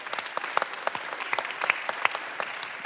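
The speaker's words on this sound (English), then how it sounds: "can we give them all a big round of applause" Audience at a live season finale show claps for the crew behind the cameras, a moderately sized crowd giving scattered but continuous applause with distinct individual claps standing out.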